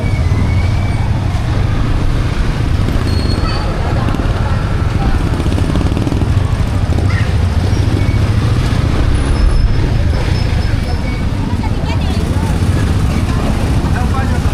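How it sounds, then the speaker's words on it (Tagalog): Heavy road traffic with buses and cars fills the air as a constant loud rumble of engines, with people talking over it throughout. "Napasabak natin sa malupit na traffic."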